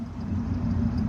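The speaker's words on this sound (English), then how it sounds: "With the push of this button, I can open and close the exhaust valve." Dodge Dakota pickup truck idles with its exhaust valve open, giving a low, steady, close rumble with no break or voices.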